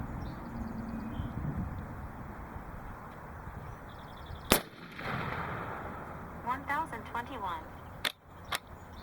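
Umarex Hammer air rifle fired over a chronograph, with one sharp loud shot near the middle and a second crack toward the end, set against steady room noise.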